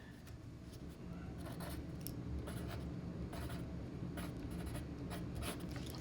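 A pen scratches steadily across paper while math notes are written down, a close, quiet, continuous rustle with brief strokes and no talking.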